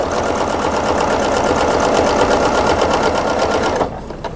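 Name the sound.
sewing machine stitching a ruler-work table runner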